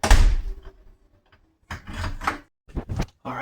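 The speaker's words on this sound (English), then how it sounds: "It's just the door magnet is pushing the door." A door magnet pushes an interior door on its hinges, giving a few soft, close knocks and thuds in short clusters separated by quiet gaps.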